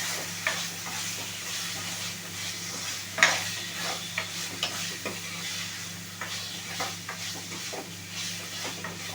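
Chicken liver being stirred and fried in a pan, an even sizzle punctuated by repeated spatula scrapes and knocks against the pan, one louder clack early on.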